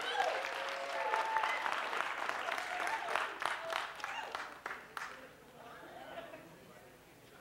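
Applause from an audience at a leadership talk on a college campus, moderately loud with a few sharper claps, fading out near the end into quieter room noise.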